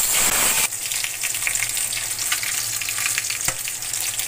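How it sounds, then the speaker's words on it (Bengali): Rohu fish pieces fry in hot oil in a wok with a loud, dense sizzle. The sizzle jumps up sharply after a moment, then crackles steadily, with one brief clack partway through. "এখন আমি মাছগুলা ভেজে নিব"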